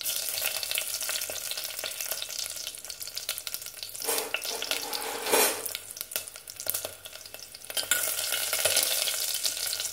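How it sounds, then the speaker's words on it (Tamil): Crushed garlic and chillies sizzle in sesame oil in a cooker. Stirring and scraping sweep through the loud, continuous frying. "இதில் 2 வெள்ளைப்பூடு, பார்த்தீங்களா, வெள்ளைப்பூடு தட்டி போட்டிருக்கேன்."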